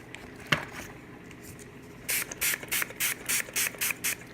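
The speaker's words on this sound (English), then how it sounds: "So I just use like hydrogen peroxide and give it a good spray all the way around." A spray bottle of hydrogen peroxide mists around an orchid, a quick run of short hissing bursts in steady rhythm after a brief knock, close and fairly quiet.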